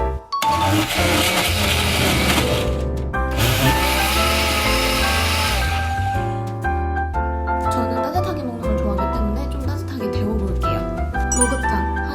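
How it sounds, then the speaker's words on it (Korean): A blender whirs loudly in two long grinding bursts, blending a sweet potato latte, then stops as soft background music continues. "이제 믹서기로 갈아주면 끝납니다."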